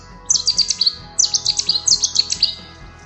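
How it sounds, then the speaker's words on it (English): Cetti's warbler singing nearby in the UK, two loud explosive bursts of rapid sharp notes separated by a short pause, clear and close. "Yes, it's a Chetty's warbler."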